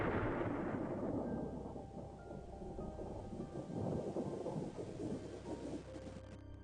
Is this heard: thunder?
yes